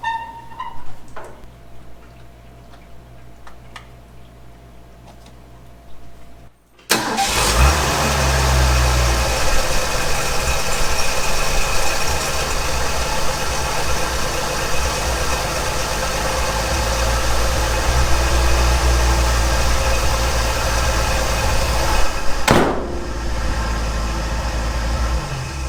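A 1965 Ford F250 service truck engine cranks and catches after several quiet seconds, then idles loudly and steadily up close with a rough, knocking rumble until near the end.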